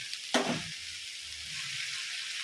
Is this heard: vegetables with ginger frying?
yes